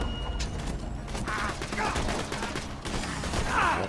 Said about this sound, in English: we're taking crossfire here, so that's not good.